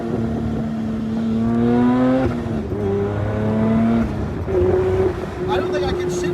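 A 500hp Classic Mini engine revs hard with rev-matched shifts, its loud, steady drone climbing in pitch, dropping sharply at each gear change and climbing again, heard from close inside the car.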